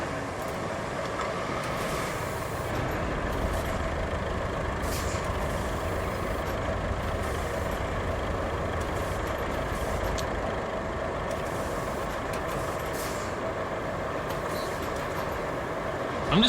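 An articulated dump truck manoeuvres in the Roadcraft game on a contaminated map, its diesel engine a steady, loud drone with hissing air brakes and faint reversing beeps throughout, with no talking.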